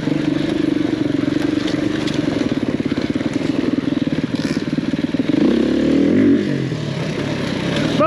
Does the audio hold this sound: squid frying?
no